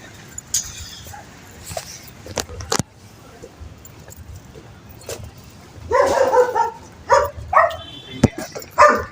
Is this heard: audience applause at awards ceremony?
no